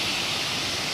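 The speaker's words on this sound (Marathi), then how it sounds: "वॉटरफॉल बघा मंडळी." A hidden waterfall at Dapoli roars as a steady, broad rush of falling water, dense and continuous throughout with no pauses and no voices on top.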